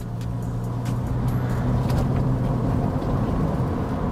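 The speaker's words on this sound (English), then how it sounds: "turning right onto the bumpy road in the floaty rover." A Rover car engine drones steadily from inside the vehicle, with a low rumble and occasional knocks and rattles as it rolls over an uneven road.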